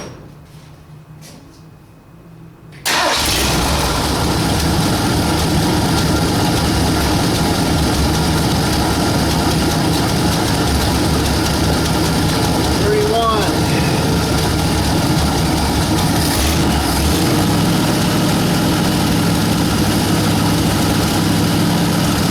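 After a plug change and dwell setting, a 1960 Ford F100 engine starts about three seconds in and settles into a loud, steady, close idle, with voices talking over it.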